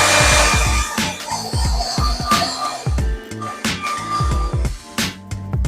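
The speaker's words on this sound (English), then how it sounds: "Again, let's bring out the dryer." A handheld hair dryer blows with a loud, breathy whoosh over wet paint, its motor pulsing and shifting in pitch as it moves, close to the listener.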